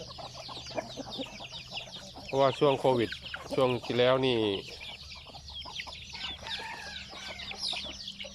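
Semi-free-range backyard chickens cluck and call in short bursts close by, while someone talks over a low background hum.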